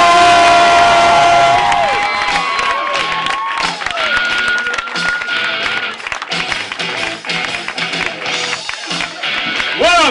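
A comedy show audience cheers, whoops and claps loudly for the next comedian, a dense, sustained roar of crowd noise with shouts rising over the applause.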